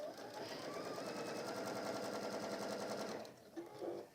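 A sewing machine runs in one long continuous burst, stitching around the top of a fabric mug carrier, its rapid needle chatter steady and close before it stops, leaving a few soft handling sounds.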